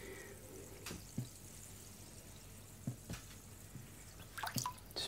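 A sharpening stone soaking in water gives off small, sparse bubbling drips and plops, faint and close, spaced irregularly with a few clustered pops near the end.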